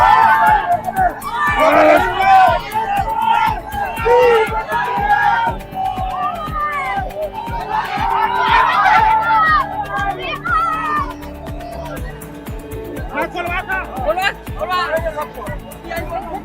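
An angry mob of Bajrang Dal and VHP supporters clamours loudly in a tense street standoff, a dense, close babble of many shouting voices rising and falling throughout.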